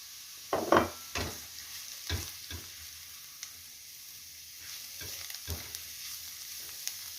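Mushrooms drop into a pan of carrots frying in oil, giving a quiet sizzle with a few soft thuds and stirring scrapes, then low crackling.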